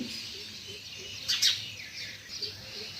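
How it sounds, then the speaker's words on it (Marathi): A few quick, bright chirps from a house sparrow, fairly close, in the early morning over a soft background hiss. "मस्त चिमणी आली चिवचिव करते भारी"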